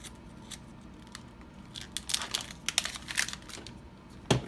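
A knife slices open a plastic package holding a hook-back PVC morale patch, giving close crinkling and scratchy cutting sounds that build into several sharp bursts near the end.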